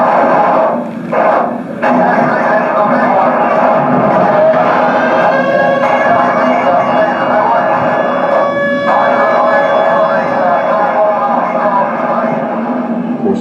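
A wailing siren drones steadily through a busy, noisy outdoor scene, with people talking underneath the sustained tone.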